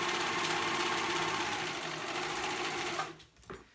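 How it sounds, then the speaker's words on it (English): Serger sewing machine stitching stretch fabric, a fast, even mechanical whir running steadily at close range before stopping abruptly, followed by a couple of faint handling clicks. "I am going to be using my serger for these steps"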